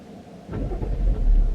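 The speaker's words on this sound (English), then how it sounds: "there's cars coming" Passing cars on a road, a low rumbling engine sound rising from near silence and swelling louder as the vehicles approach and go by.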